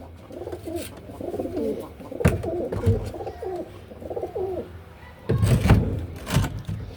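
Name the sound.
pigeons cooing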